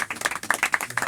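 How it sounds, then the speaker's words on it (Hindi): An audience at a shayari poetry open mic claps in quick, uneven bursts, nearby and fairly loud. "तो सर जोरदार ताली हो जाए सर।"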